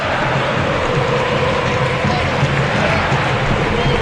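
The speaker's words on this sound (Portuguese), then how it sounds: "Ouça a torcida aqui na Arena." Football crowd in a Brazilian league stadium, Palmeiras against Chapecoense at the Arena, a dense, steady roar of fans filling the space late in the match, broad and continuous with no single voice standing out.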